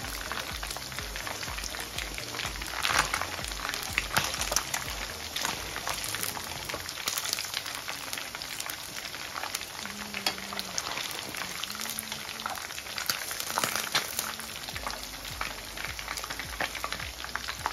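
Fish frying in hot oil for a tomato fish stew, a steady dense crackle and sizzle running the whole time, close and fairly loud, with a few stirring knocks and no talk.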